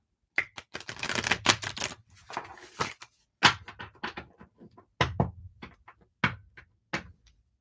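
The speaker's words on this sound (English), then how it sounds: "I'm going to shuffle up for you 3 times." A deck of tarot cards is shuffled up close in irregular riffling bursts and soft slaps, several rounds separated by brief pauses, with no talking.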